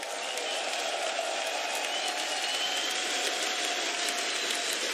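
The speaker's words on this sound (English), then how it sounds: "Can we get a big cheer for Vince and the job he's done?" Large arena crowd at a CS:GO grand final, IEM Katowice 2019, cheering and applauding in a dense, sustained roar that fills the whole stretch at steady loudness.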